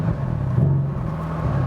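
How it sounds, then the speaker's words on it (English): Mercedes-AMG C63S V8 convertible from 2017 with 510 hp, its exhaust giving a steady low engine drone with a slight swell in pitch partway through, close and fairly loud, with no talking. "one more of the exhaust with the exhaust pipe"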